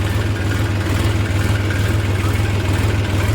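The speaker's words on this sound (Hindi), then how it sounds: "अभी ये ट्रैक्टर खेत में चल रहा है" A Massey Ferguson 245 DI tractor engine runs steadily in a field, a loud close low diesel thrum with even rapid pulsing that holds constant throughout, with no talk over it.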